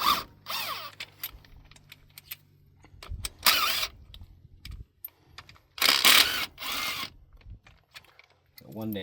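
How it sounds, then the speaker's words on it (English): A rattle gun undoes bolts on the starter motor of a 2001–2007 Honda with a K24A four-cylinder engine, firing two loud, brief bursts amid clanking tools, while someone talks throughout. "then hopefully a little rattle gun or any tool of your choice should be able to get it much easier."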